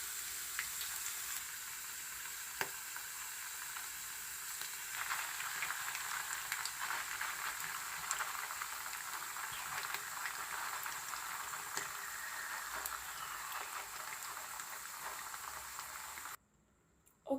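A fish stew simmers in a pot with a soft, steady bubbling hiss, fairly faint and continuous, as tomatoes go in, ending in a sudden cut to silence.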